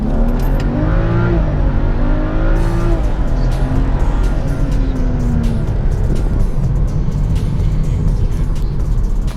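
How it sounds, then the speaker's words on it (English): Modified BMW 435i accelerating hard from low revs, a loud, steady engine drone heard from inside the cabin with the pitch climbing smoothly through a gear, dropping at a shift, then rising again. "Man, this car makes a whole lot of torque down low."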